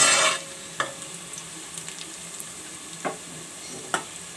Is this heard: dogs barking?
no